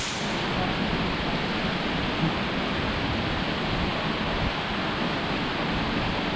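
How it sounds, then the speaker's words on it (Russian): The Boikinsky waterfall in Crimea gives a constant, close, full-bodied rushing roar of falling water that never lets up. "Водопад Бойкинский."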